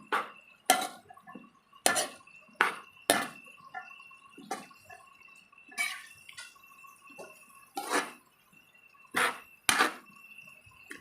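Pansit miki noodles being stirred in a pan, with repeated clinks and scrapes of a utensil against metal at irregular intervals, moderately close, with no talking.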